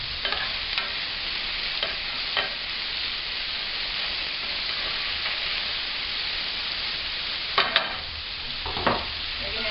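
Vegetables soften in olive oil over medium heat for a layered penne bake, with a constant moderate sizzle and occasional stirring scrapes and clinks, some clustered near the end, and no voices.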